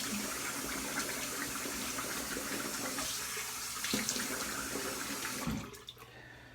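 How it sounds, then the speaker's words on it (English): Tap water runs steadily into a sink during rinsing after a head shave, a continuous close hiss and splash that cuts off abruptly near the end. "I'm gonna rinse up real quick."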